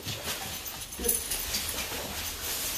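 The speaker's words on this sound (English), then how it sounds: "Don't mind my dog." A dog whimpers in a room, with faint high whines and small yips close by over a steady background hiss, and no talking.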